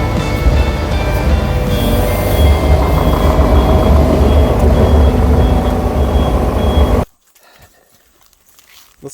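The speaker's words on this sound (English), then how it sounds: "Make a road with the skid steer now." A skid steer loader building a road works loudly and close, its engine rumble and clatter steady for several seconds with faint reversing beeps, then cuts off abruptly into quiet.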